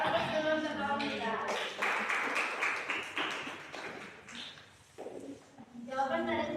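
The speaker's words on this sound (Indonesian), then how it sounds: "beri aplaus dulu untuk kawan kita" Students clap for a classmate after a group presentation in a class. The brief burst of applause rises in the middle, and talking can be heard before and after it.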